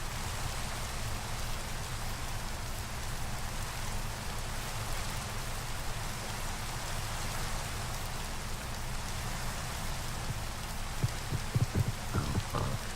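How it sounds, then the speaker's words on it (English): Steady rain in the video game Minecraft, a continuous even hiss of falling drops lasting throughout, with a few faint low taps near the end. "Oh yay, rain."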